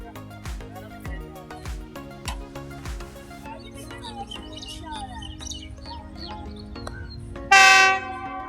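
The 45 Up Pakistan Express approaches the station with rhythmic clacking of wheels over rail joints, then a loud, sharp horn blast near the end, with faint voices and bird chirps in the background.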